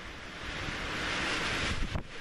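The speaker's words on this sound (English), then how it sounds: "Could do without the wind" Strong wind roars steadily across a mountain summit near 11,000 feet on the Estes Cone hike, buffeting the microphone with a loud, continuous rush that swells slightly toward the end.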